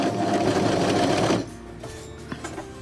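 A cover stitch sewing machine running fast and steady through fabric, a loud close buzzing whir for about a second and a half before it stops, leaving quieter clicks and handling sounds.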